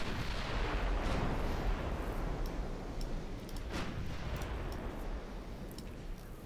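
Naval gunfire and an exploding ship in a warship video game, where heavy continuous booming rumble fills the whole stretch and sharper blasts crack through it, loud and dense without let-up.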